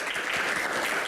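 Brief, dense applause from a studio audience of university students at a Q&A show, steady and even, with no talking.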